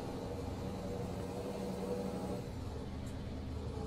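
A heavy truck engine in Euro Truck Simulator 2 with ProMods, on a winter drive from Bergen to Stavanger, hums as a steady low drone that stays even throughout, with no talking over it.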